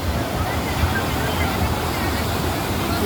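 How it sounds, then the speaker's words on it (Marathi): Rushing water of Randha Falls near Bhandardara pours in a steady, loud, unbroken roar from start to finish, with no break in the wash of sound. "खळखळ पाणी बघायला हा आहे रंदा फॉल"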